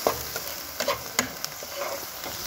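Fish curry masala with turmeric and chili powder stirred in a pan, a low, faint sizzle with a few soft spoon scrapes and taps.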